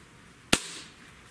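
A single sharp crack from a Xisico 702 PCP air rifle firing, loud and close, with a brief decaying tail and no other sound around it.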